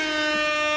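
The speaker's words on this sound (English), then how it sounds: "Hit that air horn." An air horn sound effect blares as one loud, steady, brassy tone that fills the whole moment with no break.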